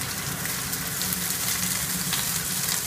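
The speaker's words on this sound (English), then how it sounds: "This is flash pan frying." Steady, dense sizzling of scallops flash frying in a hot pan, a continuous crackling hiss throughout with no pauses.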